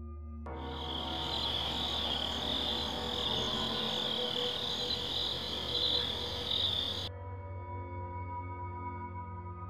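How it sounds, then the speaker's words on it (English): Crickets chirp steadily in a dense, continuous outdoor chorus at night, holding a bright high trill for several seconds before it cuts off abruptly, leaving only a faint background hum. "catches nothing but crickets chirping under a night sky"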